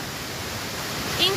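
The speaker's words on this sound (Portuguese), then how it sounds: "a primeira queda que a gente tem aqui na cachoeira da Butler" The Cachoeira Buettner waterfall in Brusque makes a steady, even rush of falling water, and a brief voice comes in near the end.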